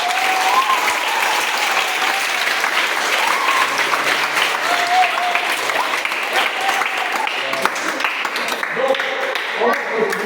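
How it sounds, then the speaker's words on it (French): A large audience applauds and cheers, a dense steady wash of clapping with scattered shouts that carries on for about ten seconds at a church event. "je veux que vous acclamez pour le Seigneur Jésus-Christ"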